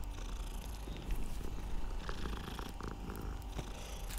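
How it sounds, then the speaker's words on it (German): A cat in the video game Hogwarts Legacy purrs softly as it is petted, a quiet, steady low rumble running throughout with no one talking. "Nein, nicht die Katze streicheln."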